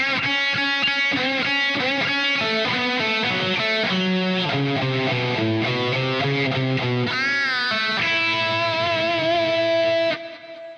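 Distorted electric guitar plays a slow, loosely improvised-feeling solo, sustained bent and vibrato notes sliding through a melodic line, loud and alone with no talking.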